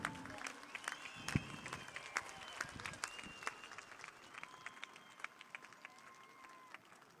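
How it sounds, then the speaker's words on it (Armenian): A crowd at an outdoor political rally in Armavir claps for Prime Minister Pashinyan. The applause is distant and thin: scattered claps and a few sharp hand slaps ring over a faint murmur of background noise and whistles. "ծափերով ողջունենք վարչապետին, շնորհակալ ենք եւ ծափերով ճանապարհենք վարչապետին"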